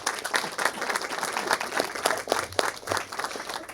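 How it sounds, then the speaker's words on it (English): Audience applause at a press conference, a steady, dense patter of many hands clapping throughout, fairly close and without speech over it. "Can we give them a round of applause?"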